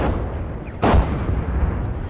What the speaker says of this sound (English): You have to advance through the artillery now.